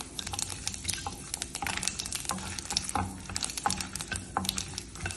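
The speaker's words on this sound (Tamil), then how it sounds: "காஞ்சிச்சு நம்ம கடுகு போட்டுக்கலாம், 2 காஞ்ச மிளகா போட்டுக்கலாம்" Mustard seeds and dried red chillies crackle and sizzle in hot oil for a rasam tempering, with sharp irregular pops and spits over a steady frying hiss, close and moderately loud.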